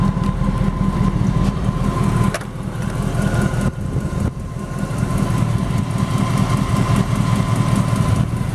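A 1933 Ford three-window coupe street rod engine idles close by with a steady, deep, mellow rumble, loud throughout with a couple of brief dips.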